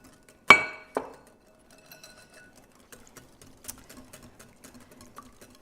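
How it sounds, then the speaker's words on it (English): Whisk working a gelatin and elderberry syrup mixture in a bowl: two sharp clinks up close, then a run of quieter, irregular ticks and scrapes. "Just keep whisking it together so it's well incorporated."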